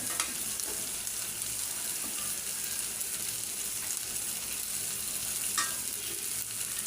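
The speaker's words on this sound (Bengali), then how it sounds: "আমি আজকে অনেকগুলো মাছ ভাজি করলাম" Several fish frying in a pan, with a steady, even sizzle of hot oil that holds throughout and a few faint clinks.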